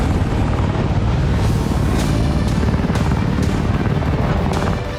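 Russian combat helicopter on patrol during road construction, a steady, loud, dense rotor roar that fills the whole clip with faint rhythmic thumps running through it and no voices.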